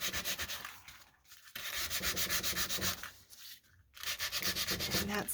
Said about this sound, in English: now I'm going to just take a piece of sandpaper and just kind of sand